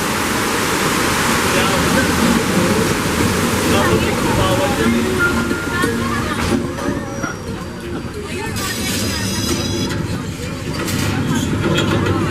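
Loud, continuous rushing of water gushing from a burst water main dominates throughout, with people talking and shouting underneath, on a studio backlot tram tour.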